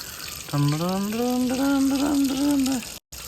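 Water runs steadily into a fish pond being refilled after its mud was cleared, a continuous rushing hiss with a voice talking over most of it.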